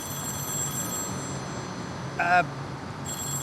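Telephone ringing during a driving show episode, a short bright electronic trill burst near the end over a steady background hum, with a faint earlier ring at the start.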